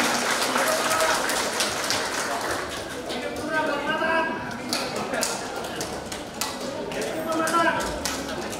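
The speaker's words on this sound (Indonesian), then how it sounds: "Mari kita tepuk tangan untuk Uras Tempat." A crowd claps at the inauguration of a multipurpose building and funeral home, a dense patter of applause that rises and falls while voices talk and call out over it.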